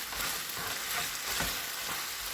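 Chopped onions sizzle and fry in a pan for a homemade pizza topping, a steady, close crackling hiss with faint stirring, heard on its own.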